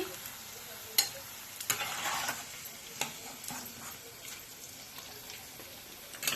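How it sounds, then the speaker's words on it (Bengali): Cashews frying in hot oil after paneer has been fried, a quiet steady sizzle broken by a few sharp clicks and scrapes of a utensil stirring the pan. "আমি কাজু বাদামগুলোকেও একটু লালচে করে ভেজে নিচ্ছি"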